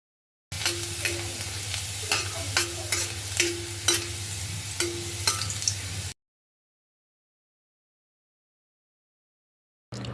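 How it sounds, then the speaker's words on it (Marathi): Sliced garlic pieces frying in hot oil in a kadai, a steady sizzle broken by repeated clicks of stirring, close and clear, ending abruptly in silence. "आपण त्यामध्ये आपण ज्या कापून लसूण पाकळ्या घेतलेल्या"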